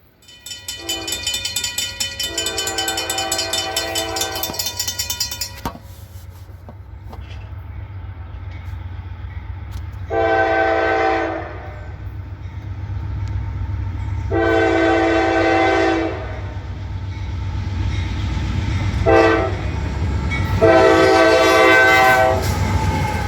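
Train rolling past with long, loud horn blasts sounding several times over a steady rumble of wheels and cars, continuous and close throughout.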